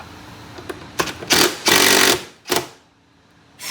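A power driver backs T25 screws out of a fender on a Can-Am Maverick side-by-side, giving several short whirring bursts, each a second or less, close and loud with brief pauses between them and no talking.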